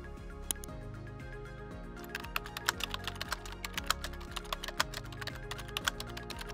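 Typing on a computer keyboard to enter an indicator name into a search box, a fast run of light clicky keystrokes over a steady background of music.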